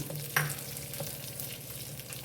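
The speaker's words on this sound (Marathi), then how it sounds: "मस्त आपला तडका बसला याच्यामध्ये गरम मस्त छान" Hot tadka tempering sizzles as it is poured into chutney for a South Indian–style dish, a steady close crackle of frying oil throughout the brief moment with no voices.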